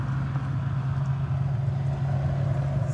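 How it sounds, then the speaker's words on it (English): A passing car gives a steady low engine and road rumble at moderate distance, continuous throughout with no talking. "Sorry, I'm just gonna let that vehicle go by."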